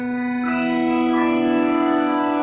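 Synthesizer-like tone made with the NOTONO AI sound design interface, a steady harmonic drone in a high octave whose upper overtones slowly swell and shimmer with a chorus-like wobble, sounding alone.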